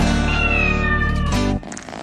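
A cat meows in one long, loud, drawn-out wavering cry lasting over a second, close and alone, in a Spanish children's song about a cat, then breaks off into quieter background.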